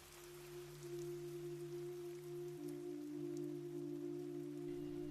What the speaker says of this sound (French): Notre histoire commence donc avec une pluie fine, fraîche qui glisse sur les feuilles épaisses de pin